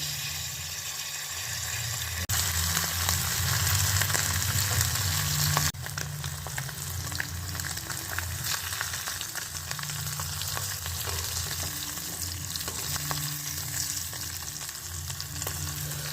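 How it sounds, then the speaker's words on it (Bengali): Rupchanda fish, seasoned with salt and turmeric, fry in hot oil in a wok, giving a steady close sizzle that swells loudly for a few seconds, then settles into continuous crackling with faint spatters. "কড়াইতে তেল দিয়ে দিয়েছি এখন মাছগুলো ছেড়ে দেবো"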